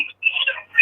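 A mobile phone ringing nearby, with loud, bright electronic trill bursts separated by short gaps.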